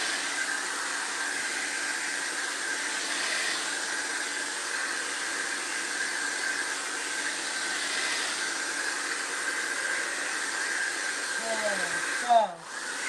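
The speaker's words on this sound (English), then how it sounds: "if you're going to use a hair dryer on your paint, make sure you use a cool, low setting." A hair dryer on a cool, low setting blows steadily while drying paint, a constant close whoosh lasting throughout before a brief handling shift near the end.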